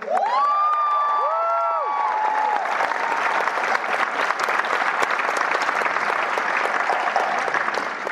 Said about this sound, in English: I just want to give a round of applause to the amazing, iconic Suzanne Summers